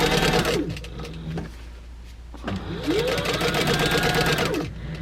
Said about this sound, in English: I'm going to top stitch right along the top.